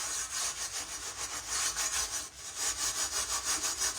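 Rust is scrubbed off a cast iron skillet in rapid, even back-and-forth rasping strokes, close and loud, with a short pause midway and no talking.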